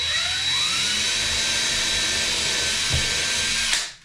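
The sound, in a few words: power drill pre-drilling a screw hole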